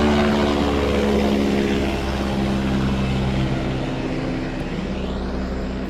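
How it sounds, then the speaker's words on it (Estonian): Rescue helicopter flying directly overhead on a hiking trail in the Tatra mountains near Zakopane: a loud, steady rotor and engine roar filling the whole clip, close and continuous, fading slightly toward the end. "Helikopter tuleb meie kohale."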